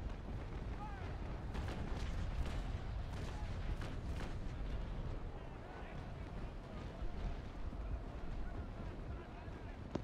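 A broadside of ship cannons in the naval combat game Naval Action rolls out as a rapid series of dull booming reports, fairly faint and rumbling, with voices talking over them.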